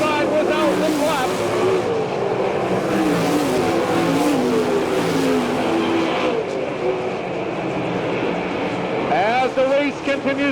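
Sprint cars from the All Star Circuit of Champions race at Port Royal Speedway, Pennsylvania, their engines a loud, continuous roar along the back stretch as two cars battle side by side, with an announcer talking over the noise.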